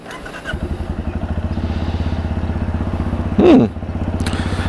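A 2020 Benelli Imperiale 400 single-cylinder motorcycle starts up and settles into a steady, close, thumping idle with an even beat. Partway through there is one brief louder blip or rev.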